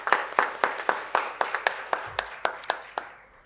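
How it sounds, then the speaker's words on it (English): A small audience at a business conference in Ahmedabad on India's development claps for Rajvi, sparse and distinctly separated handclaps in a loose, fairly even rhythm, close and moderately loud, thinning out toward the end. "a big round of applause for Rajvi also"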